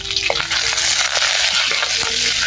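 Tempering spices and curry leaves sizzle in hot oil in a clay pot, with a dense, steady frying hiss and occasional crackles and stirring scrapes.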